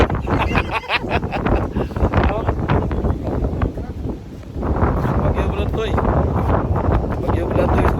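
Strong typhoon wind from Typhoon Nanmadol roars in continuous broadband gusts, buffeting the microphone throughout, with a brief lull before rising again, while people talk over it.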